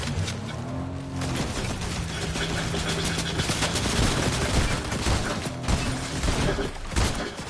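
Sustained gunfire in the Fortnite video game aimed at the player, a dense loud barrage of shots over engine-like rumble, continuous for several seconds.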